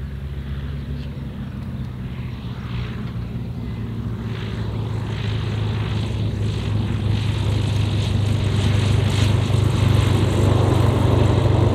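Small propeller airplane approaching and landing on the runway at Mackinac Island, a steady low engine drone that swells gradually louder and rougher toward the end, heard continuously with no talk.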